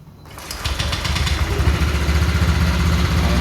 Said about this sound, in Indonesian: Ini saya coba hidupkan mesinnya.